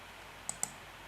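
Two quick, faint computer mouse clicks, a fraction of a second apart, sound against a quiet background.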